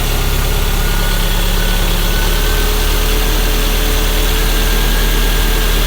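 A 1991 Toyota MR2 Turbo engine idling steadily after restoration work, a loud, close, continuous low rumble with an even mechanical hum and no talking.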